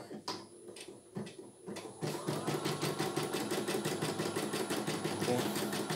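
A CNY E900 embroidery machine starts up and runs with a fast, even mechanical clatter of needle strokes, close and fairly quiet, after a few separate clicks.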